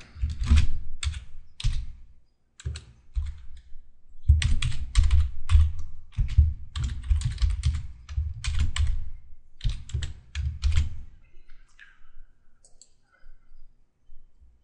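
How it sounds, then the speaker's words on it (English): HTML being typed into a text editor on a computer keyboard: close, clattering bursts of rapid keystrokes with short pauses between runs, thinning out toward the end, no voices. "Let's type in some basic HTML now."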